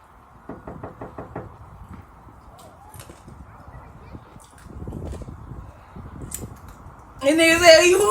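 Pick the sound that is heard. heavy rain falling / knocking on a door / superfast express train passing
knocking on a door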